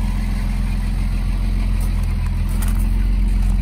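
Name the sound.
Mercedes 280 SL engine idling, dual exhaust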